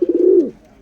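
A pigeon gives a single close, loud coo, a short rolling warble that fades out quickly.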